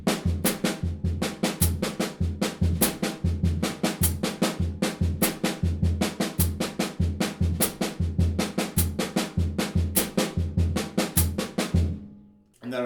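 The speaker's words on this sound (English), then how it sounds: "you're going to play the written part in the bass drum, and you're going to fill in triplets with your left hand" Drum pattern with the written part on the bass drum and triplet fills played by the left hand, a steady loud, close rhythmic run of hits continuing for about twelve seconds before stopping.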